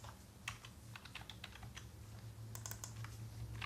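A computer keyboard is typed on up close in a quiet room, with light irregular key clicks coming in short bursts over a low steady hum.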